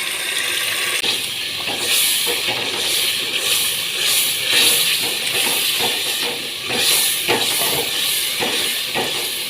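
Tadka spices hitting hot oil in a village kitchen in Pakistan, giving a steady loud hissing sizzle with faint bubbling that swells and eases slightly, close and with no talk.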